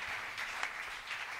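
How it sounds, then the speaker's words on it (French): A church congregation at a Sunday service applauds the king of glory, a brief, fairly faint patter of crowd clapping with a few sharper claps standing out. "Acclame très fort le roi de gloire."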